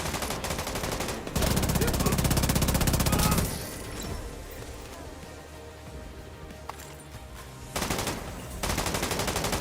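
The Chameleon gun in The Division 2 fires in rapid sustained automatic bursts, loud and close, with a pause in the middle. A dense crackle of gunfire and game noise continues between the bursts.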